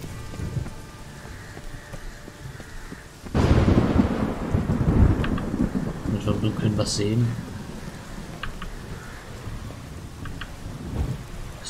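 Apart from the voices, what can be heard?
thunderstorm with rain in video game The Witcher 3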